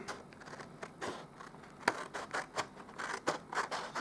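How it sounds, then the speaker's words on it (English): Scissors cutting around a traced paper wrapper: a series of crisp snipping and scraping cuts in an uneven rhythm, close and clear with no talk. "we're just going to grab our scissors and we're going to cut all around that"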